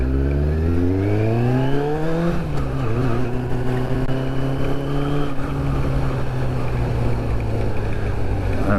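Kawasaki ZX6-R sport motorcycle, about 20 years old, under way on the road: the engine climbs steeply through a rev sweep, then settles into a steady loud drone with strong wind rush and no talking.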